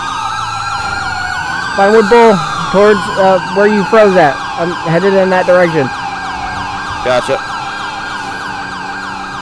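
Emergency vehicle sirens wail in a roleplay driving game, several overlapping sweeping tones rising and falling near the streets of Vinewood, while players talk over radio.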